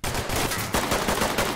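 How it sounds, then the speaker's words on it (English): Gunfire in the tactical shooter game Ready or Not, a rapid burst of repeated loud shots in quick succession fired through wood, close and continuous with no talking. "they shoot through the wood"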